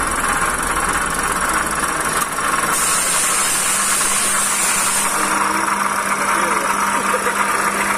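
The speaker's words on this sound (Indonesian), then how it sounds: "Bunyinya nyaring sekali ya, kayak suara di dalam mesin." A Toyota Calya engine idles roughly with a loud, harsh, continuous mechanical noise, steady throughout with a bright high-pitched ring over a low drone, heard close up.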